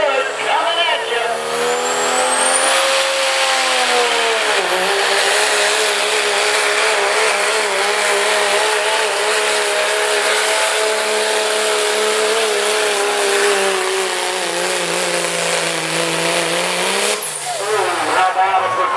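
Cummins-powered diesel pulling truck at a truck and tractor pull, a loud sustained engine roar that holds steady across the run, nearby, with a brief pitch shift near the end.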